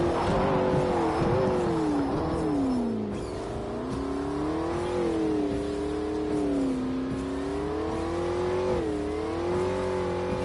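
Race car engine in a video game racing Porsche, Ferrari and McLaren, revving and rising and falling in pitch with a strong whining harmonic tone, loud and continuous with no talk.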